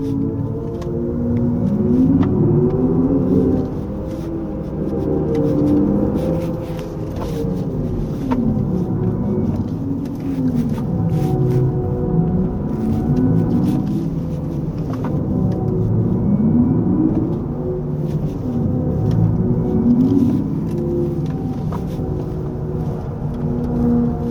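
A 2023 Hyundai IONIQ 6 AWD electric car on 18-inch wheels plays its synthetic active sound design while climbing a winding mountain road, a droning tone that swoops up and down in repeated arcs over road rumble.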